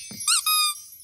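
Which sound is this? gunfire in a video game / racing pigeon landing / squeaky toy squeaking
squeaky toy squeaking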